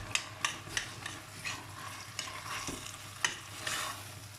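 Leeks being mixed into a beef mince pie filling with an onion, a spoon stirring and scraping against a bowl or pan in rhythmic strokes with sharp clicks, over a faint low hum; no talking.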